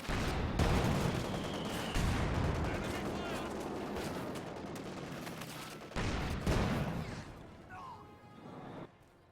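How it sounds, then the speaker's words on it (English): Machine gun fire from a large assault of two MG42s and a Maxim in the World War II strategy game Company of Heroes 2, dense continuous bursts of gunfire with booming impacts, loud and sustained with a brief break midway. "We got a large MG assault here, 2 MG42s along with a Maxim"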